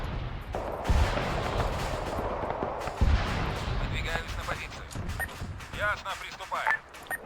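Artillery fire booms during an Arma 3 military battle, with two heavy thumps about two seconds apart amid a dense rumble of gunfire, while voices talk over the radio.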